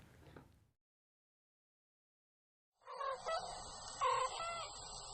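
Chickens cluck and call in a dense, close burst after a short quiet gap, with busy overlapping fowl sounds filling the last couple of seconds.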